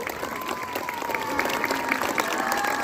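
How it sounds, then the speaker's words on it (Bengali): A crowd at an annual school sports meet on the Pukhuria school ground in Ratua-2 block, Malda, claps after the national flag is raised, giving steady, dense applause heard from some distance. "উপস্থিত সবাইকে হাততালি দিয়ে অভিনন্দন জানাতে বলবো"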